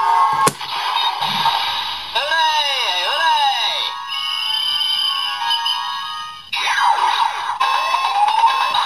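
Electronic sounds from a ToQger Yudou Breaker toy revealing a hidden third sound: loud synthesized tones with sweeping, warbling effects and bursts of announcer-style audio, broken into several segments.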